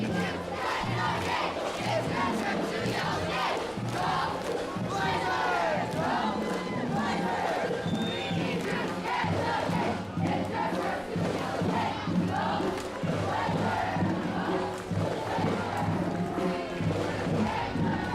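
Addison Trail High School cheerleaders shout a rhythmic group cheer at a Shriners street parade, their chanted voices loud and continuous over crowd noise for around eighteen seconds.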